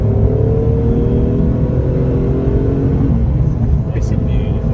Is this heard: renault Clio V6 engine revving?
yes